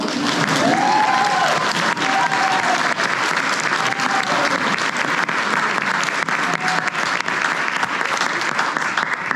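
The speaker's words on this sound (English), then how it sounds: "You can applaud." A large audience at a college choir concert claps steadily and loudly, a dense, continuous wash of applause holding for several seconds with faint voices buried underneath.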